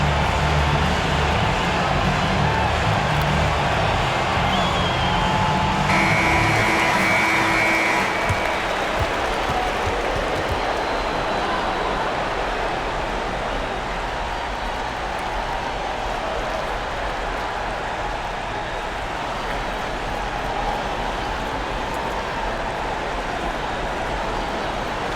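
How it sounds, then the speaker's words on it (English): A basketball arena crowd at an NBA playoff game between the Phoenix Suns and Oklahoma City Thunder claps and roars in a dense, sustained wash of applause that stays loud throughout, with a brief tonal cue mixed in early on. "The applause is deafening."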